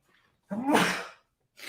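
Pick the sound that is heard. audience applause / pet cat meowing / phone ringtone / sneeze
sneeze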